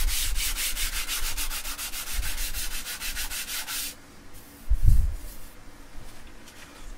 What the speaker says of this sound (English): Just be careful you don't sand through the clear into the colour.